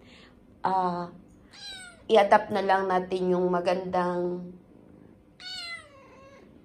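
A stray domestic cat of no particular breed, taken in at home, meows several times: a short cry, then a long run of loud, close meows, and a final drawn-out meow after a pause. A person talks over part of it.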